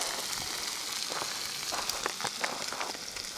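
Corn frying in leftover pork chop grease in a frying pan, a steady close hiss and crackle of sizzling oil that runs evenly throughout without pause.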